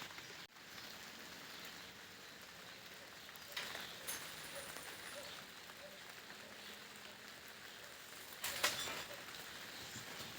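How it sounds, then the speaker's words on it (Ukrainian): Light rain falls outdoors as a soft, steady patter and rustle, faint and continuous, with a few slightly louder drips and gusts. "Іде дощик, шелестить, так тихо, хорошо."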